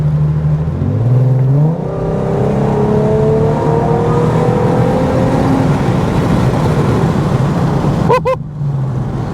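An Infiniti Q50 fitted with a Megan Racing Y-pipe drives while its engine climbs through rising revs, loud and close from inside the car, with a brief sharp click near the end.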